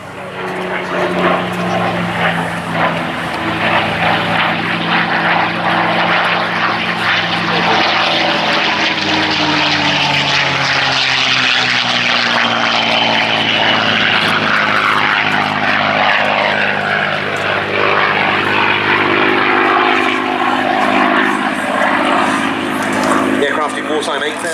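A propeller aircraft makes its final pass at the Duxford Air Festival, its engine droning loud and steady throughout with a slowly shifting pitch as it goes by, with a commentator's voice running over it.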